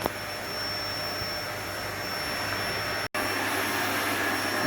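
A bee vacuum box used to catch a virgin queen drones in a loud, steady whine, with a high tone held throughout and one brief cut near the end.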